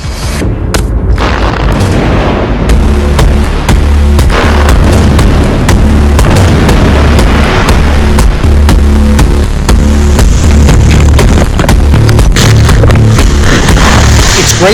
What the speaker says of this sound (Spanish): Ver una voladura es fantástico. Me gusta sentir la vibración y oír el estruendo.